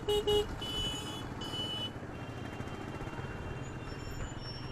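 Steady road traffic surrounds a rider on a Bajaj Pulsar P150 motorcycle, a dense low rumble of engines and tyres with a few short horn toots at the start, no voices.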